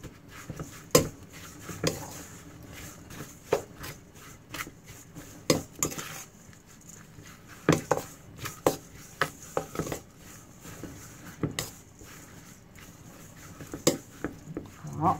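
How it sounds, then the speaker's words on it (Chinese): Meat chunks being mixed with sweet potato starch in a bowl for Taiwanese meat thick soup, with irregular clinks and clatters of utensil against the bowl and soft wet squelching, close and fairly quiet throughout. "就把这些先把它搅和，把它弄均匀哈"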